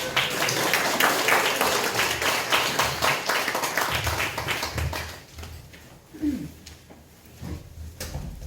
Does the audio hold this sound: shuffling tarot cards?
no